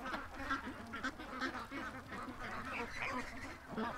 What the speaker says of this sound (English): That's a tiny duck.